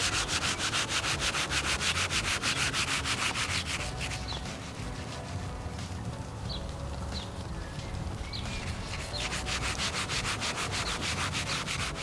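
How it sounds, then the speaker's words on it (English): Synthetic clay towel rubbed with light pressure in short back-and-forth strokes across car paint, giving a steady, close, even rubbing and sanding texture that continues throughout with no talk. "I'll then use my synthetic clay towel with light pressure and short back and forth motions to pluck and remove the larger particles"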